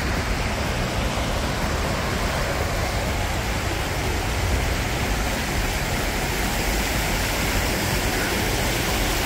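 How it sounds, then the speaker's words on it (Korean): A creek running along a walking path through Tancheon in Seongnam, its water rushing in a steady, dense wash that holds even and close for the whole stretch with no voices over it. "물소리만 들어도 힐링이 되는 것 같아요."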